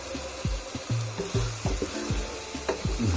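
Pork for a Zingaro dish stirred in a frying pan: a steady sizzle with repeated scraping strokes of a utensil against the pan, close and moderately loud, with no talking.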